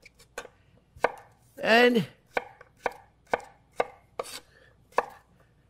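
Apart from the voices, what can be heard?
knife chopping vegetables on a board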